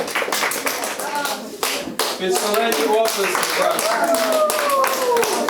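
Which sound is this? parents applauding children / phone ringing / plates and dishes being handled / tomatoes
parents applauding children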